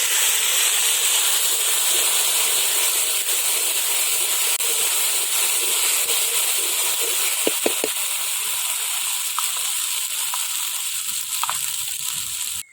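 Loud, steady sizzling of mustard seeds and ground spices frying in hot oil for herbal rasam, with a few sharp pops crackling through the continuous hiss.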